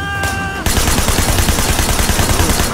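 Rapid bursts of gunfire from the Sleeping Dogs video game, a loud, dense, sustained volley of shots that begins abruptly after a brief quieter moment with a faint tone.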